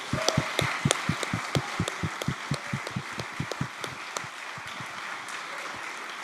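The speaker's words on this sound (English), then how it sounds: "I want everyone to give him a big applaud as well" Audience clapping at the A MAZE award ceremony in Berlin, a steady patter of many hands with sharp individual claps standing out, sustained for several seconds with a faint murmur of voices underneath.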